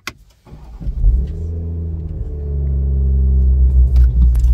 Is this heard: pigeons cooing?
no